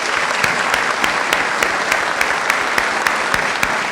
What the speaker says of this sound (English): Jen, round of applause for Jen Smith.